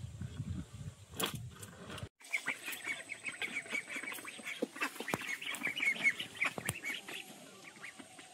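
Ducks quack over and over at close range, a busy chorus of honking calls with outdoor background noise and no one speaking.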